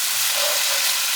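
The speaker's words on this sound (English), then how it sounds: "Stir it up." Pasta sauce with smoky paprika stirred in a hot pan, a steady, close broadband sizzle that holds evenly throughout, with a brief scrape near the end.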